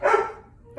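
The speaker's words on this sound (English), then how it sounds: "Sorry about the dogs." A single dog bark sounds sharp and close, then fades into a short tail of quiet.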